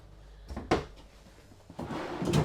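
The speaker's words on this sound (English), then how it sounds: "soft closing drawers" A couple of soft thuds and slides of a soft-closing drawer gliding shut in a 2025 KZ Durango 341RPT fifth-wheel trailer, followed by a muffled cushioned close, with faint handling noise between.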